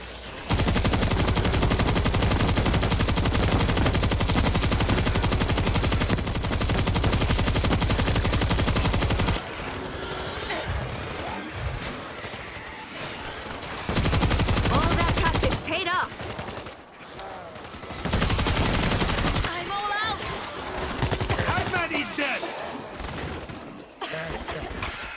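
Heavy gun fire from a bigger weapon in World War Z, on a snowy Kamchatka winter stage: a long, loud, unbroken stream of rapid shots, then choppier bursts with gaps and mixed game noise.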